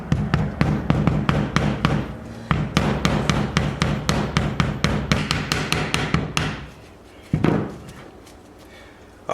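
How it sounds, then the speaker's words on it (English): A mallet gives quick, light, evenly spaced taps to seat a part on a 2JZ-swapped Nissan 350Z, a long steady run of sharp knocks close by, then a pause and a couple of final hits. "I'm gonna do some light taps with the mallet."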